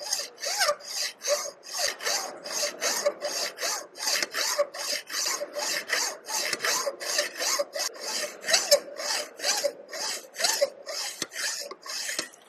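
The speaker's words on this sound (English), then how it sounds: "You have to cut the workpiece." Hand hacksaw cutting a metal workpiece in workshop fitting practice: slow, regular back-and-forth strokes, about two per second, each a bright rasping scrape close to the listener, with no talk.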